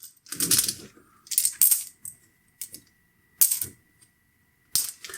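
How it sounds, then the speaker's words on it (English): Plastic board game tokens for Warp's Edge clatter as handfuls are dropped back into a bag, giving several sharp rattling bursts separated by short pauses. The sound is close, with no talking. "So now that the round is over, all the tokens will go back into the bag."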